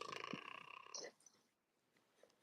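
A person imitates a cat purring with a close, quiet rasp of rhythmic pulses lasting about a second, then fading into near silence.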